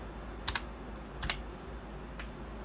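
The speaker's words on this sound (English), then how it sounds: "we delete it, and we type in" A computer keyboard is tapped while a capacitor value is entered during coil tuning. Three short, quiet clusters of keystrokes are spaced about a second apart against a faint hum.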